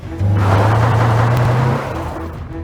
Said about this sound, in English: his car roared to life. He jammed it in drive and punched the accelerator to the floor.